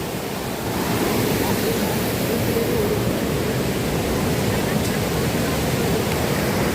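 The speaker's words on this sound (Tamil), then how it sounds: "தண்ணியை பாருங்க அப்படி பாயுது." Water rushes and flows steadily at a forest shrine, a loud broadband roar close to the listener that stays constant throughout.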